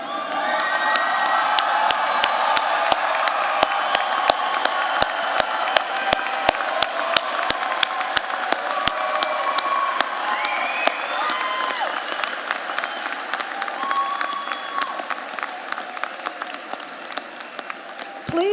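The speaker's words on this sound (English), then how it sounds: "Audience, please stand and let's give these graduates a roaring round of applause." A large commencement audience rises for standing applause for graduates, dense continuous clapping with scattered cheers and whoops that stays loud and sustained throughout, fading slightly toward the end.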